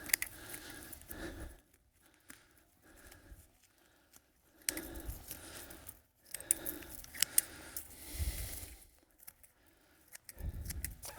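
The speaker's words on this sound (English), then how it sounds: "Cut off some of these roots so it's evenly placed" Plant roots snipped while setting a plant into a Lechuza planter, giving bursts of crisp cutting and rustling, close and moderately loud, with short quiet gaps between them and no talking.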